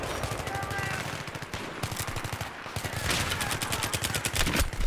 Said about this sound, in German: Jetzt werde ich wieder permanent beim Spawn erschossen.